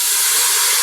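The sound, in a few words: banga palm nut extract sizzling in hot pot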